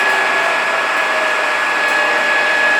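A SIRCO 40 by 85 inch manual lathe spindle running, a loud steady whirring hum with a faint high whine, nearly constant throughout with no voices.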